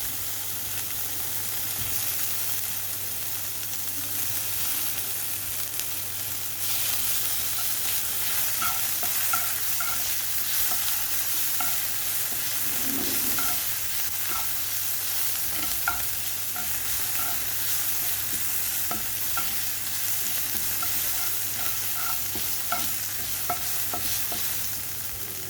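Ginger paste sizzles in a pan for chicken spring rolls, with a steady soft frying hiss and repeated scraping stirs of a spoon, close and continuous.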